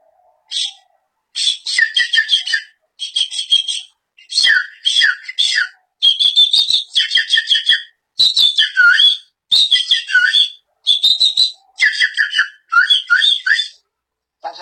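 A person whistles imitations of small birds' calls: a series of short, bright chirping and trilling bursts separated by brief pauses, loud and close with no background noise.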